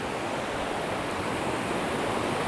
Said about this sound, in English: It is rushing water.